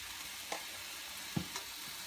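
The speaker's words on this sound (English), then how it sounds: "you roast it until the onions turn reddish color" Onions for chana masala roast on a medium flame, giving a faint, steady sizzle with a few soft stirring taps.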